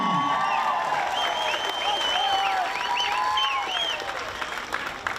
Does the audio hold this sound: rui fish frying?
no